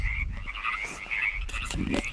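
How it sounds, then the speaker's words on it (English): Frogs croak steadily at night on a creek bank under moonlight, a dense chorus of repeated rasping calls close by and fairly loud, continuing without pause throughout. "If you can't tell by the frogs."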